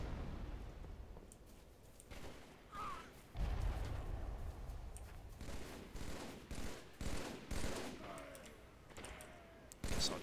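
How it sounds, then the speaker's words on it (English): Shotgun blasts in Halo: The Master Chief Collection, with a series of heavy, booming shots fired in irregular bursts amid the game's busy background sound. "Shotgun time."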